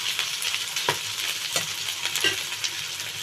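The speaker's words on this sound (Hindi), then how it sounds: "तापर अदा रसुण भट्टा देवा अदा रसुण भट्टा देली तापर टिके भाजीबा" Ginger and garlic frying in a hot pan, a continuous close sizzle with occasional scrapes and taps as it is stirred, no voices.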